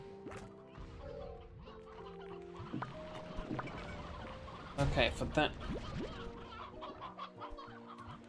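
Chickens cluck repeatedly at a Slime Rancher 2 ranch, layered with game tones, thuds and a loud crash partway through, while someone speaks briefly.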